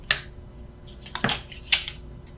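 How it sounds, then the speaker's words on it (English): Tarot cards being shuffled: three short, crisp flicks spaced about half a second apart, close and fairly quiet, with no voices. "I was just shuffling for the sake of it."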